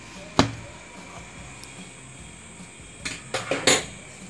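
Cake being taken out of its pan: a sharp metallic knock, then a quiet pause and a quick cluster of clinks and taps of metal on a hard surface, close by with no voices.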